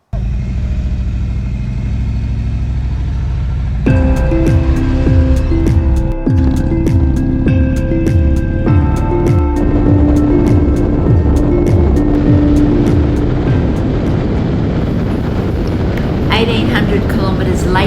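A Harley motorcycle rides along with its engine droning steadily and loud throughout, revving and shifting as it picks up pace, with heavy wind rumble.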